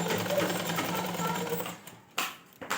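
A sewing machine stitches the waistband strip of an umbrella ghagra, running in a steady close whirring rattle for most of the moment before stopping, followed by a couple of short handling sounds.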